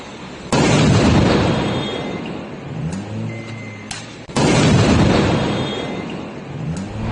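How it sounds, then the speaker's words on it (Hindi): Two sharp, loud blasts from a car explosion in Rasht, Iran, each followed by a rumbling roar that fades slowly, the second arriving about four seconds after the first, with faint pops in between. "ईरान के रश्त के इलाके में कार में धमाका।"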